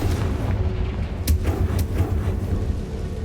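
In the Hogwarts Legacy video game, a Bombarda spell explosion rumbles as a heavy low boom, with a couple of sharp cracks cutting through the dense roar.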